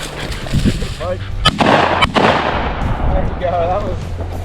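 Shotgun shots fired at a bird during upland hunting ring out as a couple of sharp outdoor blasts, mixed with rustling movement and the sound of birds.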